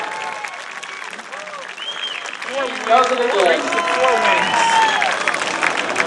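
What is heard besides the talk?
crowd applause for race winner Patrick Thomas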